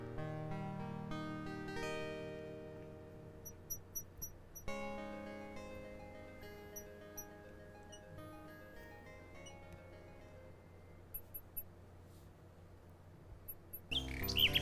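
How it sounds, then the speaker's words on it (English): Little bird chirping in the video game King's Quest 6, short bursts of high tweets recurring over sustained game music, fairly faint and mixed into the score. "The little bird makes a delivery."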